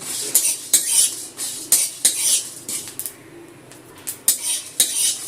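Cumin, coriander seeds and whole fennel toast dry over a raised gas flame, a spoon scraping and clinking against the pan in repeated close strokes, with brief pauses between bursts and no speech.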